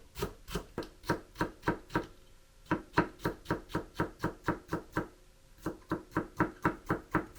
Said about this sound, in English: I slice the cabbage and put some salt.